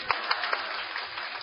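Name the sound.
congregation clapping in church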